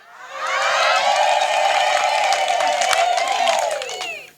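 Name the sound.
crowd ululating in celebration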